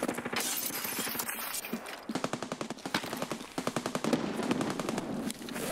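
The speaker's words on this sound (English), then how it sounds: "That's a lot of shooting." Rapid bursts of automatic gunfire in Single Player Tarkov on the Customs map, loud sustained volleys of close shots with brief gaps between strings of fire.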